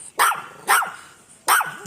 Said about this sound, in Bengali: কত সুন্দর একটা কুকুর দেখছে